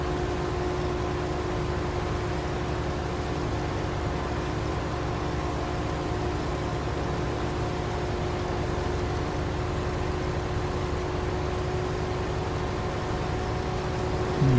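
A tractor engine strains up a hill with its wheels slipping in Farming Simulator 19, a constant droning hum with steady tonal whine and noisy rumble, unchanging and alone throughout.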